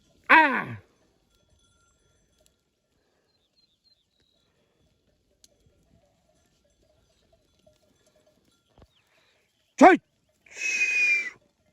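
A sheep flock with lambs bleating: a loud wavering bleat opens, then near-silence with faint scattered knocks, and near the end another sharp bleat followed by a longer, higher call.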